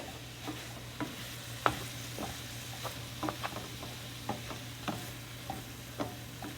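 Ground beef sizzles steadily in a pan while a utensil stirs it, tapping and scraping against the pan in a loose rhythm of small clicks over the constant frying hiss.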